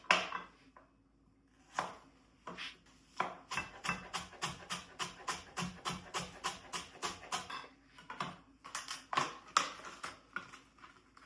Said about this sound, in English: Just chop them really fine.